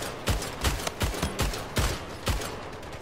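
Rapid gunfire in the arena shooter Splitgate, about seven loud, evenly spaced bursts of shots that carry on without talking.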